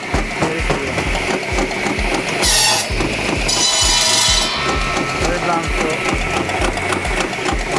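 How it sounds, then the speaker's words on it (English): A homemade belt-driven flywheel firewood splitter runs loudly, its metal clatter pounding in a fast, steady rhythm, with brief hissing bursts of higher noise partway through. "This homemade firewood splitter is pure metal mayhem. The belt-driven flywheel spins with unbelievable force."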